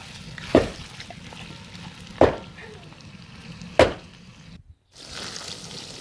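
Onions frying in a cauldron for kuurdak: a steady low sizzle runs throughout, broken by three sharp clanks of a utensil against the pot at even intervals, then a brief silence before the frying returns.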